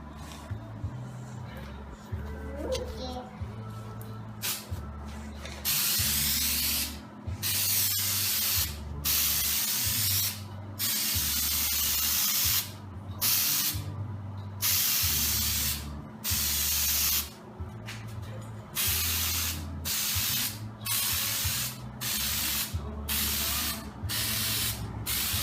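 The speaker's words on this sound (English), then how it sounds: "I'm using the Dip Your Car exclusive spray nozzle, and I'm going to go ahead and spray it" A Plasti Dip spray nozzle coats the plastics of a 2014 Honda Rancher in a close, loud series of hissing bursts, each lasting a second or two, separated by short pauses over a low background hum.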